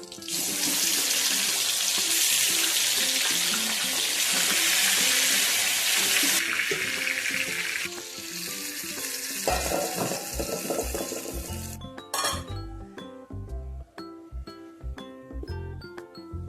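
Chicken cooks with fried onions in a pot for chicken biryani, giving a loud, steady sizzling hiss for about eight seconds that then thins out beneath rhythmic background music.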